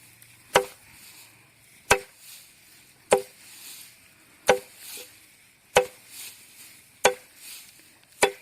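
Paddy straw bundles being cut by hand for mushroom growing, with seven sharp, evenly spaced chops close by, each crisp strike followed by a brief rustle of straw, and no talk.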